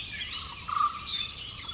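A vernal hanging parrot, once called the Indian lorikeet, calls from close range in bushes in the Indian subcontinent, giving a brief high thin chirp over soft ambient hiss.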